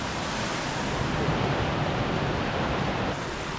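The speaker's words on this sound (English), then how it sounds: "We're hoping to pick up the other side of the creek, but with how it's flowing now, crossing might be a bit of a challenge." A fast forest creek rushes in a dense, steady wash of water noise, close and unbroken, with no voices.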